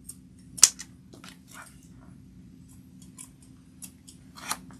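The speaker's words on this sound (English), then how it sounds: "I'm going to snip these threads." Scissors snip through sewing threads on a fabric keychain card wallet: one sharp, close snip, then a few faint clicks of the blades in a quiet room.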